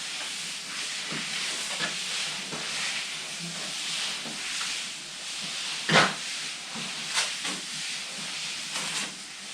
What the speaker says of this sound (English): just going over the whole area with this, and this is basically floating the wall flat